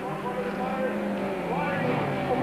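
A Ford rally car racing around a stadium course in the 1997 Super Series, its engine roaring loud and close and rising in pitch, with a voice talking over the engine noise.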